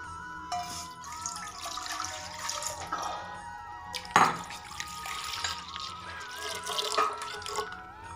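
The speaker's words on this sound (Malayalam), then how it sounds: "പാൽ ഒഴിക്കുന്നു." Milk poured into a pot while making jackfruit payasam, a steady liquid stream splashing close by at moderate volume, with no talking.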